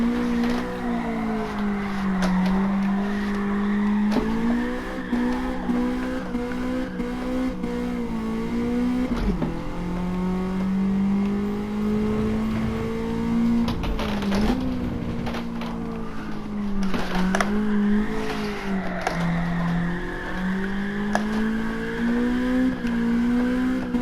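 A race car drifts on grippy tires in Gran Turismo 7, its engine holding a steady high drone that rises and dips with throttle lifts while tire squeal runs continuously underneath for the whole stretch.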